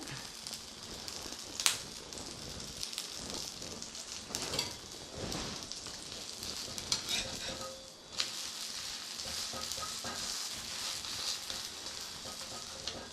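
A leaf-wrapped coconut poli frying in hot oil gives a steady, close sizzle with crackling spatters and occasional sharper pops throughout.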